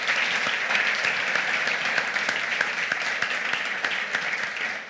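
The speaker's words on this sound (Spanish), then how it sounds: "Otro aplauso también." Audience applause at a Real Sociedad event honouring pioneers of Basque football, a dense, steady sustained clapping that fills the space evenly throughout, with no voices over it.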